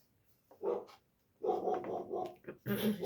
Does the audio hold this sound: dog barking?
yes